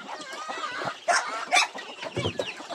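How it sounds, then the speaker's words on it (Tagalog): Chickens and chicks clucking on a small farm, a busy close chorus of overlapping clucks and high cheeping peeps with no pauses. "Maraming sisiw. sisiw dito."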